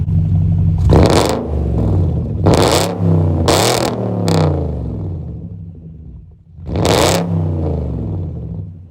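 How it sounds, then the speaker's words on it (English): A BMW 540i exhaust barks through a series of sharp, loud revs, three quick blips, then a pause and one more burst, settling into a low idle between them. "I'll give y'all a little exhaust clips."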